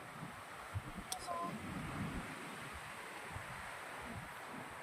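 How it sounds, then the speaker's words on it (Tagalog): Strong wind blows outdoors on a vacation outing, a faint, steady rushing with low buffeting gusts against the microphone and no other clear sounds. "Lakas talaga ng hangin guys, sobra."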